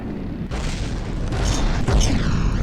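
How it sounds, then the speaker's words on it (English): Bombs burst in a deep, rumbling roll in the naval combat game From the Depths, loud and close, with a second blast building on the first and continuing to the end. "These bombs are picking me to pieces."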